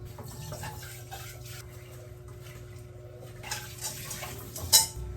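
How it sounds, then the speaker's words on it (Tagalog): A small cooking pot being washed with running tap water at home, soft splashing and trickling with light metallic clinks of the pot, close by, growing a little louder toward the end. "Hugasan ko lang tong maliit na kalderong to."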